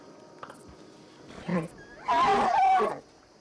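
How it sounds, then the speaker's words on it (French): A donkey in the game Red Dead Redemption brays loudly in two harsh, wheezing bursts, a short one followed by a longer drawn-out call, close by with faint background ambience. "Il va se taire cette âne là."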